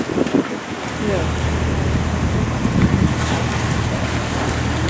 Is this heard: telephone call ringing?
no